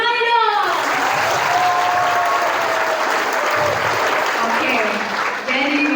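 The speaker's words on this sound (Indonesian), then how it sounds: "Tepuk tangan dong!" Enthusiastic applause from a student audience in a seminar hall, dense and continuous for several seconds, with cheering voices and a brief tonal sound riding over the clapping.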